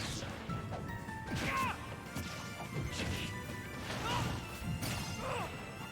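Rapid crashing hits from a Super Smash Bros match, a quick series of sharp impacts and whooshing strikes landing in close succession, moderately loud over faint background crowd noise.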